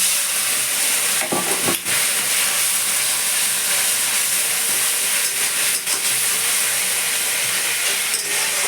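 Water poured into a hot pan of spicy bhola fish curry sets off a loud, continuous sizzle and hiss of steam, with a few sharp clatters early on and no voices.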